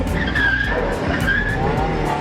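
Tires of a 1.6L Mazda Miata squeal and skid as the car drifts, long wavering screeches rising and falling over a steady engine drone, loud and close.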